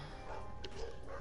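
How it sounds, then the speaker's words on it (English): Dogs bark and yip briefly inside the online game PlayStation Home, a few short, fairly soft yelps mixed into a background of game ambience. "Oh, Michael, your dogs are barking"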